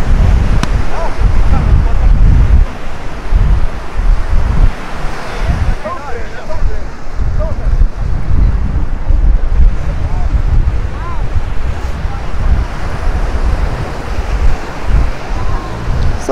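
Surf and gusting wind on the long stretch of Praia Formosa beach in Cabedelo, Paraíba, a steady loud roar with wind buffeting the microphone, and faint voices in the background.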